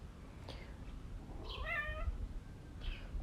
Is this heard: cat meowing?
yes